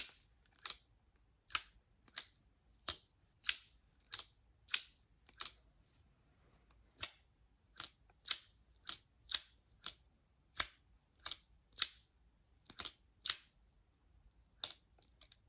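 An aluminum folding knife with an Axis-style lock and dual thumb studs is flipped open and shut repeatedly, giving sharp, close metallic clicks and snaps in short rhythmic runs with quiet gaps between, no talk.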